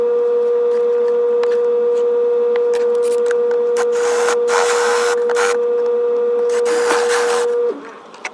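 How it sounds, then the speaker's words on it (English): A steady, loud motor whine of a drill runs continuously, with bursts of harsher grinding as the bit bites into wood while drilling sound holes for a box ukulele, then it stops near the end. "I'm going to drill these holes."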